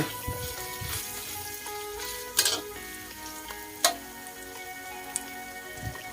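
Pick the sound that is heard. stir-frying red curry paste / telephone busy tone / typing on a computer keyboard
stir-frying red curry paste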